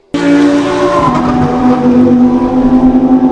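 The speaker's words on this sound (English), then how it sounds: "That was the frankly ballistic Lamborghini Huracan STO prototype." Lamborghini Huracan STO prototype engine, a sudden loud roar bursting in and holding a high, strained pitch with a gear-change dip, close and dominant, with a faint tire squeal.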